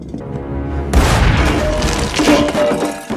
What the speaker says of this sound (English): You're blowing the whole house up!